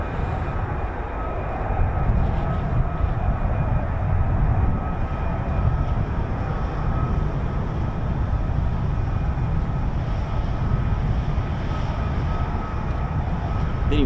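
An F-35B stealth fighter jet flying nearby, a broad, steady roar with a constant low rumble, sustained and fairly loud throughout with no talk.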